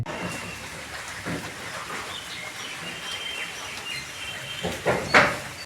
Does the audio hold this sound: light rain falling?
yes